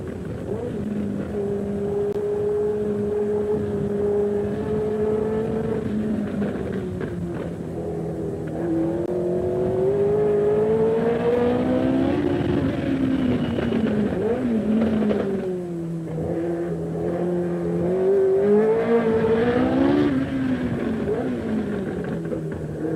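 Onboard a six-wheel Tyrrell Formula One car at the 1977 Monaco Grand Prix, a loud, continuous engine drone whose pitch climbs and falls with gear changes and revving throughout, with no other sounds.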